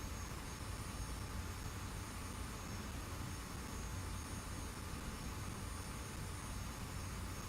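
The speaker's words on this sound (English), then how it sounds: "I could hear the engines of the F5." F-5 jet engines in the DCS combat flight simulator give a steady, loud, unbroken roar with a faint high whine on top, constant throughout, with no voices.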